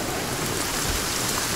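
Steady, dense rain roars across a Sons of the Forest game world as a thunderstorm rolls in, a loud continuous wash of falling water with a low rumble beneath it and no talking.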